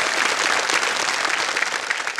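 Studio audience applause on a televised quiz game show, a dense, steady wash of many hands clapping that stays loud and continuous from start to finish with no talk over it.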